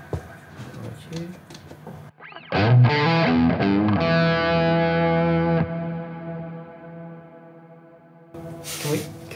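High-gain electric guitar through an amplifier rings out as a loud, distorted chord that sustains for about three seconds before cutting off, with brief talk and noise before and after.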